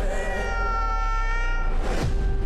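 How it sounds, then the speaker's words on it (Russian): A cat meows in a film trailer, one long drawn-out, clearly pitched meow with a rising-then-falling wail near the end, close and loud over faint background music. "здесь присутствует очень милый кот"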